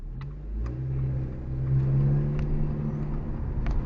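A red 1967 antique car with white interior rumbles and revs nearby, its engine holding a low, steady drone that swells slightly in the middle before easing back.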